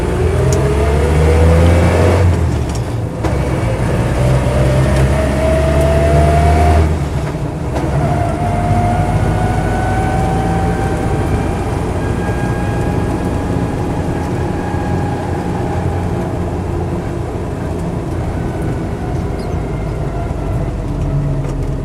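A petrol Land Rover Series III 88in drives along on a hot day, its engine droning and rising in pitch through gear changes, with brief dips between shifts and steady road rumble beneath, close and loud.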